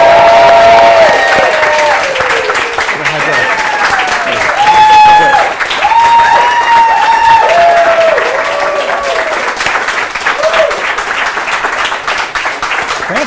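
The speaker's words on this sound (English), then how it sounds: "Ladies and gentlemen, big Matthew Moore Show applause for" A studio audience applauds to welcome guests onto a live talk show, with loud, sustained clapping and some cheering, and voices heard over the crowd throughout.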